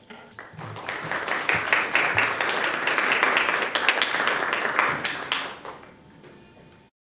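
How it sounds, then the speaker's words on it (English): A school board meeting audience claps for high school summer theater students, a steady burst of applause building quickly, holding for several seconds and tapering off to silence. "please give a big round of applause to Ironwood High School Summer Theater Enrichment Program students"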